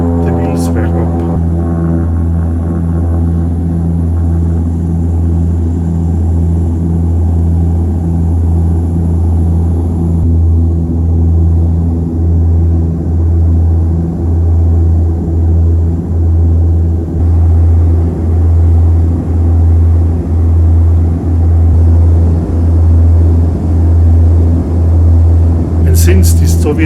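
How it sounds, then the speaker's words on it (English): Cabin noise aboard a Soviet-built Antonov 24 turboprop airliner taking off in Ukraine, a loud, steady, deep engine drone with a low throbbing hum that continues unbroken throughout. "Eventually we reached the runway end and a few seconds later the wheels were up."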